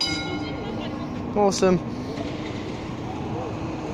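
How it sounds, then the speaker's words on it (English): An old Z3-class Melbourne tram pulls away from a stop with a steady low rumble and motor hum, and a brief spoken word cuts in partway through. "Now we've got a series tram leaving the stop."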